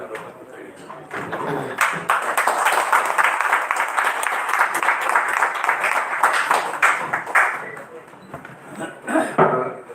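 Sustained applause from an audience at an honour ceremony during a ritual-practice workshop, many hands clapping steadily for several seconds before tapering off.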